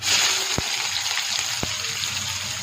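Capsicum masala sizzles and fries steadily in hot oil in a pan, a close continuous hiss with a couple of brief knocks from stirring.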